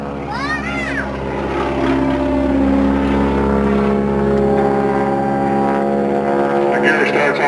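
An aerobatic aircraft flying a vertical climb at an airshow, its loud droning engine and propeller holding steady throughout while a commentator talks over the sound.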